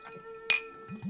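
Glasses clink once in a toast at a general's banquet in a period drama. The single bright, short clink comes mid-clip over quiet sustained music tones.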